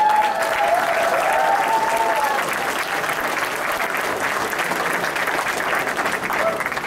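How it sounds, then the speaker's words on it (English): Loud, sustained applause from a convention audience at a fan convention's opening ceremonies, dense and steady throughout with a few cheers and crowd voices mixed in. "Everybody give him a round of applause."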